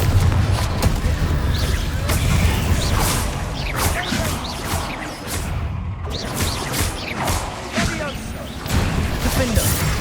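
Bombarda and Confringo spell blasts in the Hogwarts Legacy video game, a continuous barrage of booms, crackles and crashing impacts with layered magical whooshes, loud and dense throughout, with a voice heard in the mix.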